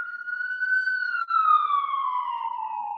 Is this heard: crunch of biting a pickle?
no